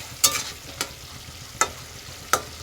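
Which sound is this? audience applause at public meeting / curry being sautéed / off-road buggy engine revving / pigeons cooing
curry being sautéed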